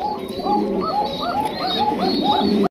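Pigeons at a bird market coo repeatedly in close, rhythmic rolling calls that overlap one another, loud and steady throughout with no voices over them.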